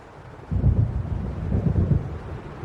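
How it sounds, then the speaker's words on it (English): Deep rolling thunder from an approaching storm in Alan Wake Remastered swells in after a quiet start, rumbling in two heavy waves over a windy background with no speech. "It seems there's a storm coming."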